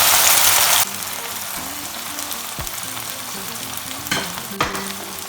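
Bell peppers drop into a hot pan for a stuffed bread filling with meat: a loud burst of sizzling frying, then a steady, quieter crackle with occasional stirring scrapes and clicks.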